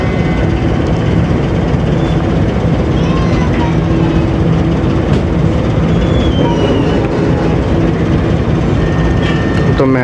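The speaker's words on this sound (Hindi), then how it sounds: "तो मेहराबपुर से निकल रही जी हमारी ट्रेन 2 घंटे डिले के साथ।" Passenger train pulling out of Mehrabpur station, running two hours late: a steady, loud rolling rumble of rail cars with faint wheel squeals, continuous for the whole stretch without spoken words.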